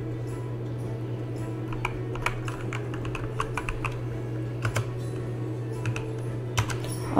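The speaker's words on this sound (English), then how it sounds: "Wow, my keyboard is really loud." Rapid clicking keystrokes on a loud computer keyboard, a steady close-up patter of taps with occasional heavier key strikes over a constant low electrical hum.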